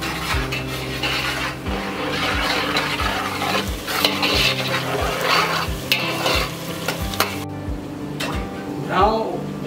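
Onions and whole chilies fry in a pan for dal meat, with a continuous sizzle and rhythmic, repeated scraping of a spoon against the pan, close and fairly loud.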